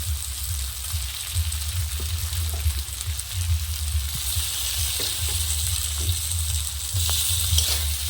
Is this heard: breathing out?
no